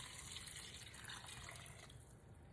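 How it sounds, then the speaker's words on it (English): Water pours steadily from a tap into a pot of green beans being cooked with bacon and potatoes, a continuous close gush with no talking. "Okay, add more water."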